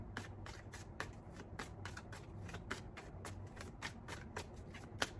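Tarot cards are shuffled up close, a quiet, soft series of repeated riffles and flutters with no talking.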